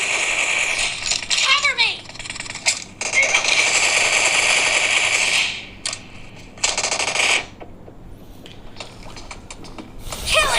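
Bursts of rapid automatic gunfire from an M249 machine gun in PUBG, loud and close, in several long strings separated by short pauses.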